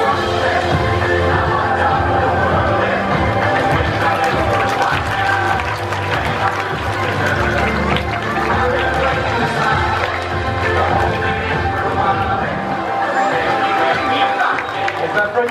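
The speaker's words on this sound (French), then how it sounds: "On peut applaudir bien fort Cali." Zoo audience applauding at the end of a sea lion show: continuous dense clapping and crowd noise throughout, loud and sustained, with some voices mixed in.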